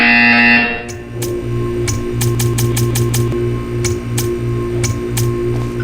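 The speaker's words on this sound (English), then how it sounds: "You will hear a buzzer." In the game Portal 2 a steady electronic buzzer drones on with a low hum, while sharp ticking clicks come in short irregular bursts over it, clear and near.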